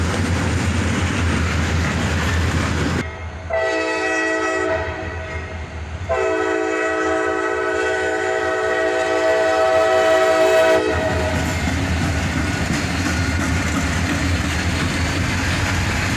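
A freight train trailed by a Jeep locomotive rumbles past close by while its horn blares in two long blasts, the steady rolling wheel noise carrying on alone after the horn ends.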